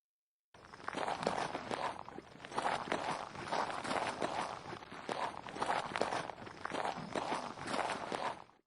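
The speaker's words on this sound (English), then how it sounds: "creating the sound of footsteps and syncing the animation to when the foot hits the ground." Video game footsteps play as a steady rhythmic run of close, crisp steps, evenly spaced and alone, with no talking.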